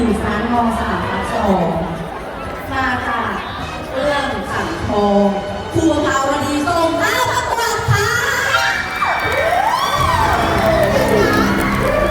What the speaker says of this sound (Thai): ขอเสียงปรบมือฤาษี